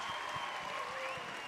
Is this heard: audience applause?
yes